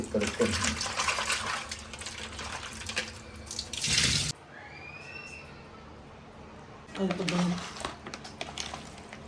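Running tap water splashing while fish are washed in fresh water, loud gushing bursts close by with a quieter gap in between and a voice talking over parts.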